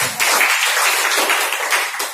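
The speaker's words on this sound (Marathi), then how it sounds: "तर एक जोरदार टाळ्या झाला पाहिजे" Dense audience applause at a business seminar, many hands clapping steadily at close range for about two seconds with no voices.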